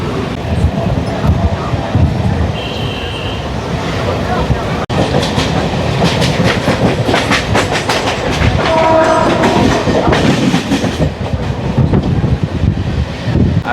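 A Mumbai local fast train from CSMT runs along the Karjat-Khopoli line, with steady loud rumble and rail clatter throughout and brief horn-like tones partway through.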